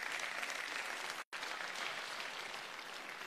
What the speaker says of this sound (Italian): anzi un applauso a Lino Leanza